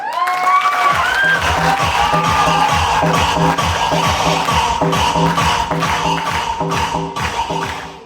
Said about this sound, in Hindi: ताली तो बज गई